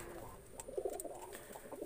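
Soft, low cooing from a pigeon, a brief throaty burst in the middle of quiet background, close but faint.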